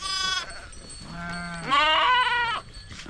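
Sheep and young lambs bleat at a flock's morning camp, with several separate wavering bleats close by, one high and short, then a lower one and a long loud cry, and no talk.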